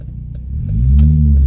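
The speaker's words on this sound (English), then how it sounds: "sorry, y'all, this traffic" A passing car accelerates in traffic, its low engine rumble building and swelling to a loud, close roar over about a second.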